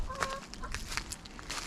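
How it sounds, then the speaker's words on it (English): Friendly farm chickens in Bali give soft, scattered clucks at close range over quiet outdoor background noise, with no talking. "these chickens, they're so friendly."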